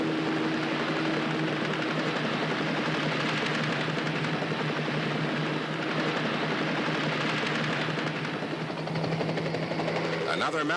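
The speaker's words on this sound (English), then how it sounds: "another helicopter comes to the rescue" A helicopter in a film escape scene drones with a continuous loud rotor roar under a narrator's voice, with possible gunfire mixed in.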